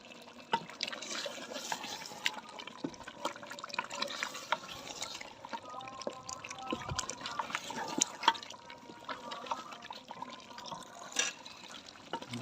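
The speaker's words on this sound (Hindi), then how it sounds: "इसमें पानी डाल देंगे, यही यखनी जो हमने निकाली थी।" Hot stock is poured into a pot of frying beef trotters for paya, a continuous low splashing and sizzling liquid sound with crackles and bubbling, fairly faint and close, with no talk.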